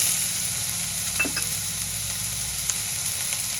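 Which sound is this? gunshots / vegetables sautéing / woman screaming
vegetables sautéing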